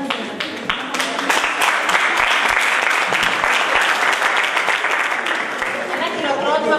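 Audience applause for participating students at an Erasmus+ Video Art closing ceremony: dense, steady clapping from a full room, loud and continuous throughout, with faint voices mixed in.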